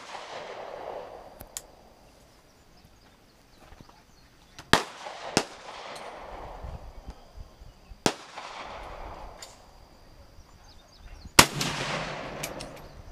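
Gunshots at outdoor target shooting at Land Between the Lakes, Kentucky: several sharp, loud reports spaced a few seconds apart, each ringing briefly over quiet outdoor background.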